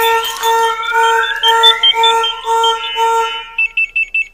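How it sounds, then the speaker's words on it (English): A loud Jeep Grand Cherokee Trackhawk car alarm wails with rising sweeps and steady tones, then switches to short rapid beeps near the end. "The alarm's going crazy."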